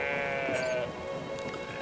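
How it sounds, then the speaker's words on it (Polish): Sheep in the video game Brothers: A Tale of Two Sons let out a drawn-out, wavering bleat that sounds fairly close and clear over soft background ambience. "Weźmy jeszcze ostatnią owcę na wszelki wypadek."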